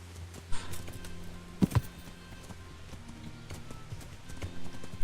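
Horse hooves clip-clopping at a steady walking pace in the medieval game Kingdom Come: Deliverance, close and distinct over a quiet ambient background.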